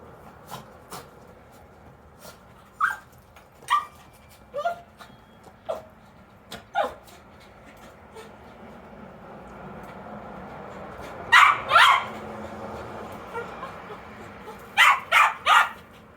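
A dog in a garden gives short whimpers and yips, spaced out at first, then louder clustered barks as someone weeds nearby, heard over a steady outdoor background.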